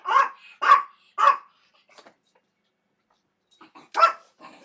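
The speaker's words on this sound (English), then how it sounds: "Let me tell you why Fluffer's barking" A dog barks sharply several times close by, three quick barks, a pause with faint sounds, then another bark and a softer yip.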